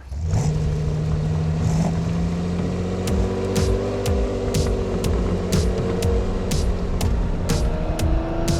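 A 1985 Lamborghini Countach 5000QV's 5-litre V12 sends out an induction whir from inside the car, a steady engine drone with a rising tone and faint ticking clatter over it, close and continuous.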